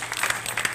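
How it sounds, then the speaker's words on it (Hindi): An audience applauds at a ceremony where a Bolero vehicle is presented to a Jammu pilgrims' lodge trust, giving a steady, moderately loud patter of many hands clapping, with no talk. "तालियां बजाइए"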